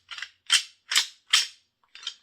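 A Bone Collector Bag of Bone rattle bag is shaken in five short, sharp clattering bursts with brief pauses between them, imitating colliding deer antlers during hunting, close and clear with no talk.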